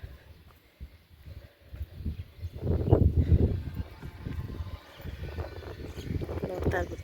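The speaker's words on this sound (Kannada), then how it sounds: "ಗಾಳಿ ಸೌಂಡ್ ಕೇಳಿಸ್ತಾ ಐತೆ ಅನಿಸುತ್ತೆ ನಿಮಗೆಲ್ರಿಗೂ" Gusts of wind rumble and buffet the microphone in strong, uneven bursts, swelling loudest in the middle and again toward the end.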